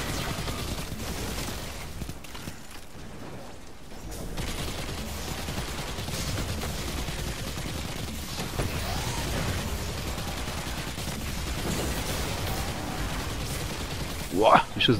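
Gunfire in the video game Destiny 2 plays as rapid bursts of shots over dense game noise, with a player talking throughout and a sharper burst near the end.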